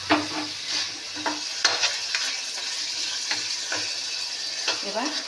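Food sautés in a pan while being stirred, a close, steady sizzle broken by repeated scraping and tapping strokes of the spatula, with no talking.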